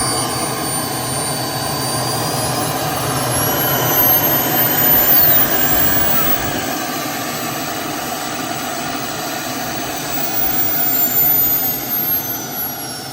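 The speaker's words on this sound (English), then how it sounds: "we're gonna go ahead and get the turbine started now" A model jet turbine runs on an Avanti S model jet with a steady, loud roar. A thin high whine rises and falls above it, and no voices are heard.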